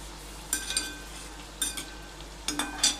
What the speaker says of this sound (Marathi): त्यावरतून असं तेल टाकायचं आहे, म्हणजे वरची साईड पण थोडी फ्राय होईल